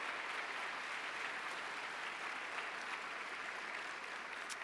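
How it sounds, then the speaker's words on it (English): An audience at a large national conference general session applauds in a steady, dense wash of clapping that is fairly faint and distant and continues without a break from start to end. "Let's give Rich and his team another round of applause."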